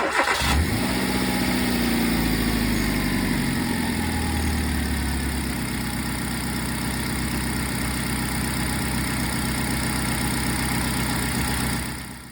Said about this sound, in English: let's start the car now and let's see how the belt is rotating